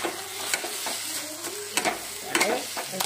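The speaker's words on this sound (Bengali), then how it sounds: "একটু নাড়াচাড়া করতে করতে এটা হয়ে যাবে" Sour fruit and sugar are stirred in a pan: a soft sizzle with a few distinct scraping strokes of a spoon against the metal, close and moderate in level.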